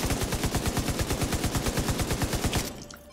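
Light machine gun fires a long sustained burst in The Division 2, rapid evenly spaced loud shots for about two and a half seconds before cutting off into a fading tail.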